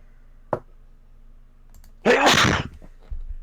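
A single loud, close sneeze bursts out in a quiet room during a tabletop role-playing game session, preceded by a brief click.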